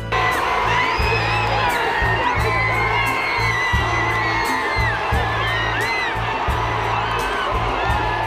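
A packed ballpark crowd at a Cubs World Series game cheers loudly in the extra innings, with whoops, shouts and yells rising over a continuous roar and repeated rhythmic thumps beneath.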